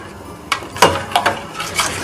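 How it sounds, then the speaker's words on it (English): A spoon stirring almond dates milk in a pot over a low flame, with a few sharp metallic clinks and scrapes against the pot at an irregular pace, close and clear. "You will keep stirring it on low flame."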